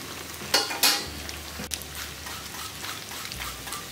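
A bread roll fries in a pan with a steady, moderate sizzle, broken by a few sharp clatters early on and a low hum underneath.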